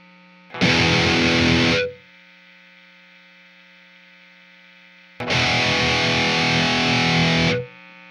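High-gain electric guitar with Fishman Alnico Modern and EMG 85-7X/57-7 pickups: a loud distorted chord rings for about a second, then a steady hum and hiss of pickup noise, then another long distorted chord.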